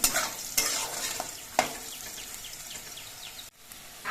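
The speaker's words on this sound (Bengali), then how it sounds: "আলুগুলো কিছুক্ষণ ভেজে নেওয়ার পর দেখুন আলুর কালারটা কিন্তু অনেকটা চেঞ্জ হয়ে গেছে" Potatoes frying in a pan for a drumstick-flower dish, heard as a loud steady sizzle with a few sharp scraping stirs of a spatula, close up and without speech.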